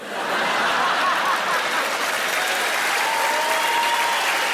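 Dense, sustained applause from a large comedy-club audience in Glasgow, with scattered chuckles and laughter mixed in, loud and close throughout the few seconds.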